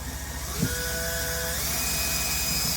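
A power drill bores a hole through a drywall for mounting floating corner shelves, giving a steady close whine that holds for the whole stretch with no talk.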